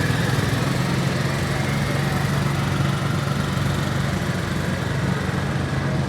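A 53M chain-driven tractor with drop axles at a tractor show, its engine running in a loud, steady, continuous drone that stays constant throughout, with no talking.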